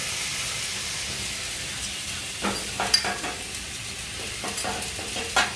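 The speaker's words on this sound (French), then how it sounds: "Je vais mettre mes saumons en cuisson." Salmon fillets frying in a pan, a steady sizzle with a few sharper crackles and pops, heard alone with no talking.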